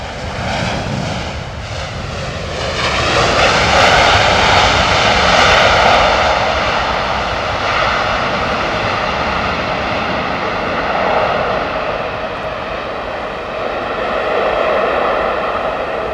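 A large airliner's engines roar at Heathrow Airport, a loud, sustained broadband rush with a slowly shifting whine that swells and eases over about sixteen seconds.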